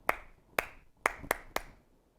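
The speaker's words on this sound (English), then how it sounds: "You could clap." Five sharp, close hand claps sound in a loose, uneven rhythm, each a crisp snap with brief quiet in between.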